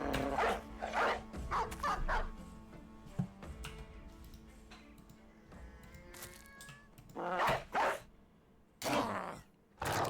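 Dog barks from the Battle Brothers tactical game, several loud bursts near the start and again around eight and nine seconds, set over a steady game music and ambience bed.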